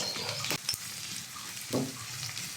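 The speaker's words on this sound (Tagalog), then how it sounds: "pwede na natin igisa yung ating mga sangkap" Pork and adobo ingredients sauté in a hot pan, giving a steady close sizzle broken by a few sharp stirring scrapes.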